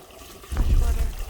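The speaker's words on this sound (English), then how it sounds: "and then we fill them up with water." Water rushing into containers in a short, close burst, a brief gushing pour that starts abruptly and holds steady for under a second.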